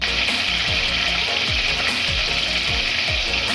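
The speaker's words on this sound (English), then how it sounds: "Cumin seed 1 spoon. Green cardamom, cinnamon stick 1, cardamom 2, star anise 1. Fry 1 minutes." Cumin seeds, green cardamom, a cinnamon stick and star anise fry in olive oil for a mutton coconut salan, giving a loud, continuous sizzle with faint stirring scrapes throughout.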